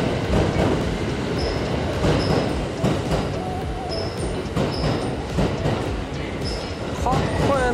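A Kintetsu Nara Line train runs through a station, with continuous rumbling wheels, rhythmic rail clatter and faint squeals throughout, loud and near, while people talk over it.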